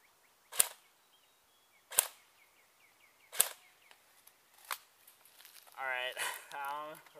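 Airsoft AK-47 BB gun firing outdoors: three sharp, evenly spaced shots about a second and a half apart, then fainter pops, with a voice speaking toward the end.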